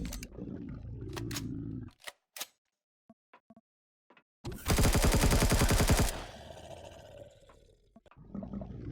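Turret gunfire in the survival game Empyrion Galactic Survival erupts as a loud, rapid automatic burst lasting about a second and a half. Scattered clicks and short game effects come before it, and a low rumble follows.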